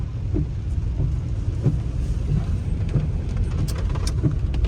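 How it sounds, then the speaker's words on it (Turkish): Heavy rain pours down during a slow drive along a village road with no drainage, a steady dense wash of rain and road noise filling the whole stretch, with faint low rumbles underneath and no talking. "Yağmur feci bir şekilde yağıyor."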